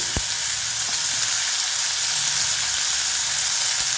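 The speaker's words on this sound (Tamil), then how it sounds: "இது நல்லா வதங்கட்டும்" Tomato and curry leaves sautéing in a pan for a karisalankanni kurma, an even, continuous close sizzle with a couple of sharp spoon taps, no voices.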